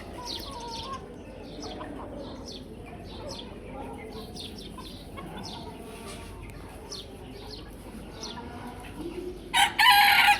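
A brightly coloured rooster on a rural poultry yard crows repeatedly at moderate distance, its calls rising over a steady bed of clucking hens, chirping birds and outdoor background noise, with a louder burst near the end.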